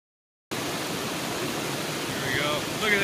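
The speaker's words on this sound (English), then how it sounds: "Look at that waterfall." Waterfall beside a river on a rafting trip, a steady broadband rush of falling water that starts abruptly and holds at an even, fairly loud level, with a faint voice underneath near the end.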